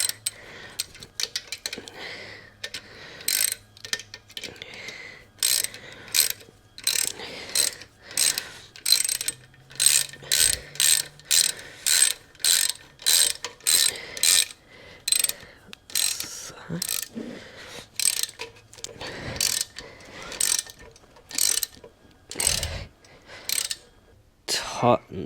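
A ratchet wrench tightens bolts while a Lifan 140cc engine is fitted into a 1969 Honda CD90Z, giving loud, close bursts of rapid metallic clicking in repeated strokes with short pauses between them.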